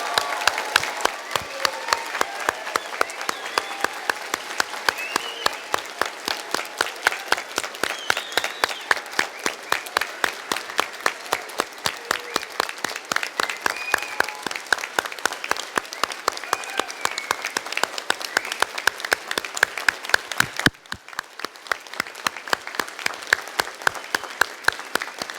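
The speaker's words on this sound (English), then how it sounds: "give our graduates a standing ovation and very loud applause" Loud sustained applause from a graduation ceremony audience giving graduates a standing ovation at Victoria University, dense steady clapping filling the hall for the whole stretch with a brief dip near the end.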